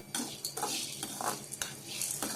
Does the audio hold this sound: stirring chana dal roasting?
yes